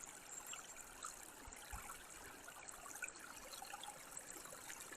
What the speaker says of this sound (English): But I mostly enjoy the sound of the water.